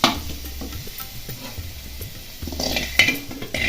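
Tempering spices crackling in hot oil for meal maker gravy, a soft sizzle under spoon clinks and scrapes against a metal pan, growing louder and busier toward the end.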